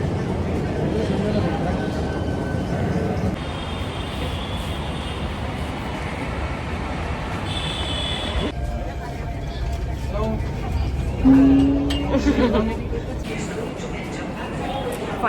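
Delhi metro train at Narayana station, a broad steady rumble and rail roar with a faint squeal and a short tone, under crowd babble and nearby talk.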